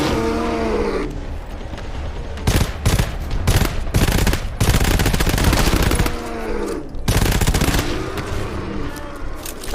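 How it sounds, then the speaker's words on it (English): Video game gunfire crackles in dense bursts of loud, close shots, with sustained volleys in the middle stretch and brief gaps between them. "just keep shooting until they're dead"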